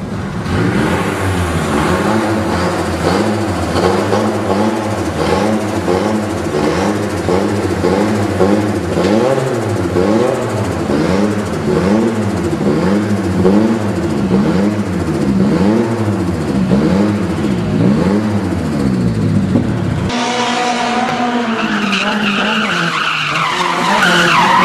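A drift car skids hard with its engine revving, a loud continuous tyre screech that warbles rhythmically as the throttle rises and falls, then shifts tone near the end. No voices are heard.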